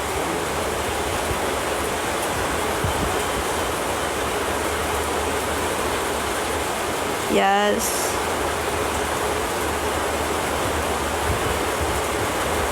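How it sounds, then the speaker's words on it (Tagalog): Dense, steady hiss of heavy rain pouring down without a break, with one short spoken word in the middle. "Lakas ng ang lakas ng ulan"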